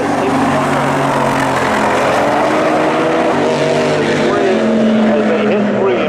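Race cars roar through a corner at Seekonk Speedway during a short-track race, a loud, dense engine drone with shifting pitches from several cars at once, continuous throughout.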